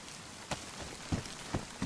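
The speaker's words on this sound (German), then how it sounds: "Ich glaube, ich stelle mich mal hier irgendwo unter, wo es nicht gar so garstig regnet" Steady rain falls in the video game DayZ, a constant hiss of drops on surfaces with a few louder dull taps and splashes, no voices.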